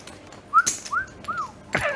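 Someone whistles three short rising-and-falling notes with pauses between them, with a few clicks and rustles nearby.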